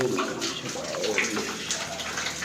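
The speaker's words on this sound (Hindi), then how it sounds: "भोलेनाथ जल गिर रहा है ऊपर से" Water falls from the ceiling inside a Shiva temple cave, producing a continuous close splashing and trickling wash with no pauses.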